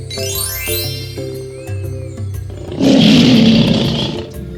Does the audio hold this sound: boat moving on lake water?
no